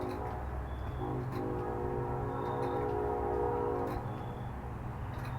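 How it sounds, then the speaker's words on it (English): A train passes at moderate distance, a steady rumbling roar with sustained harmonic tones that swell and hold for about four seconds before easing, with faint high squeal-like accents above the continuous rolling noise. "I like the sound of trains."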